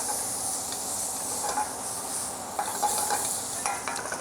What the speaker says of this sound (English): We just cook these really slow with just a little bit of butter, some fresh thyme, and a little salt.